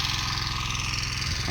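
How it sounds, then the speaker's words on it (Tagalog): A hand tractor engine runs steadily in a farm field beside an eggplant plot, a loud, continuous mid-pitched chugging drone with no talking. "So yung hand tractor ang ating ginagamit"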